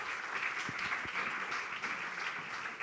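Steady applause from an audience at a Spanish-language talk on artificial intelligence and medicine greets the speaker, a dense, even wash of many hands clapping throughout.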